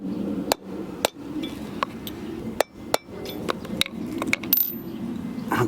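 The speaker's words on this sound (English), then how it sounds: "use a rubber mallet" A rubber mallet taps motorcycle bushings on a 2024 Harley-Davidson Road Glide, giving about a dozen sharp, irregular knocks over a steady background hum, with no talking.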